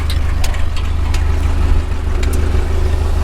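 A 1948 Ford 8N tractor grading a driveway with a King Kutter six-foot back blade, its engine running loud and close in a steady low throbbing rumble.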